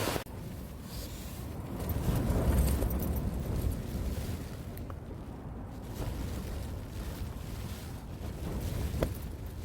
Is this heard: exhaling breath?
no